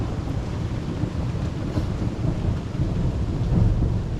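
Thunder rumbles steadily through a severe electrical storm over Liège, Belgium, mixed with heavy rain and some wind, a continuous loud roar with no speech.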